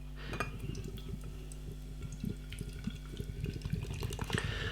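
Imperial-strength hoppy lager at 7.6% ABV poured from a can into a glass, a steady close splashing and trickle of liquid with a few light glass clinks along the way.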